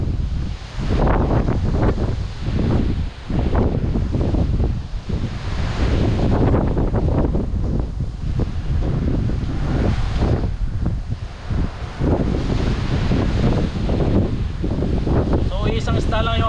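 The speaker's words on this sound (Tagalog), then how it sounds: "Bagamat malakas ang hangin ayos naman po, may konting lilim." Strong wind blowing outdoors under a tree, a loud continuous roaring gust buffeting the microphone with rustling, and a voice speaking under it.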